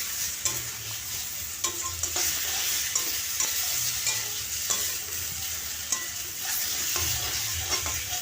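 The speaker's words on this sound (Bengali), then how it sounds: "দিয়ে প্রথমে আমি ভালো করে মিশিয়ে নিই বেগুনের সাথে।" Ground spice paste being stirred with eggplant in a hot pan, a soft steady sizzle under regular scraping and clicking strokes of a spatula, close and quiet, with no voices.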